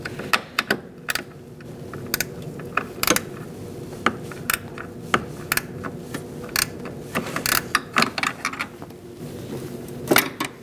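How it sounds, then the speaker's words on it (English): A ratchet wrench works loose a nut on the brake master cylinder of a 2004-2012 Chevrolet Colorado, giving irregular bursts of sharp clicking over a low steady hum, close by and with no talking. "I'm going to switch to a ratchet wrench."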